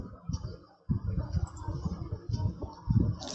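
Computer keyboard keys pressed during typing, a series of close, crisp clicks in an irregular rhythm, fairly loud and alone, with short pauses between bursts.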